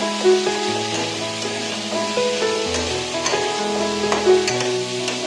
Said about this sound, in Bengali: এরপর মশলাটাকে আমি ভালো করে কষিয়ে নেব